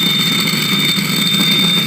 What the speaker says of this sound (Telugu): సో మనకు మోటార్ అనేది రన్ అవుతుంది.